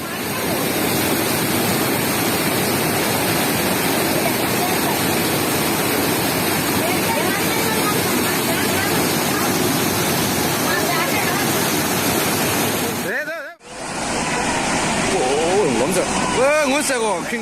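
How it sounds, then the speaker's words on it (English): Devastating flood water in Kerala, India, a loud continuous roaring rush that fills the whole stretch, breaking off sharply for a moment before the torrent resumes just as dense. "Check out this devastating flood in the Indian state of Kerala"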